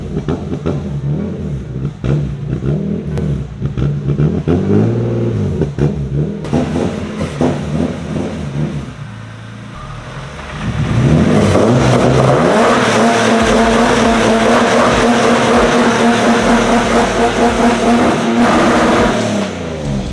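A car engine revs hard and loud, the note climbing and falling in repeated bursts before settling into a sustained high-rpm roar, with no talk over it.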